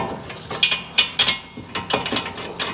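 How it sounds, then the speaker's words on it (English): Caliper bracket bolts being started and run in on the front brakes of a 2021 Kia Telluride, heard as close, irregular metallic ratcheting clicks and clatters in short bursts with no talking. "Just hold that up in place while we get these caliper bracket bolts started."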